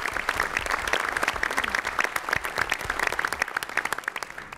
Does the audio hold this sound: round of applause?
yes